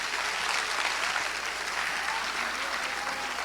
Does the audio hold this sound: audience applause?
yes